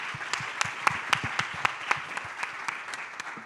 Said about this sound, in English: Let's give a big round of applause to Jorge and Renata.